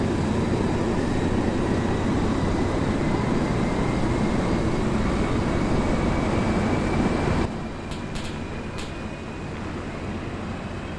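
A simulated aircraft engine in ArmA 3 spools up as a steady, loud, continuous rumble with a rising whine, then drops abruptly to a lower, quieter hum for the final few seconds.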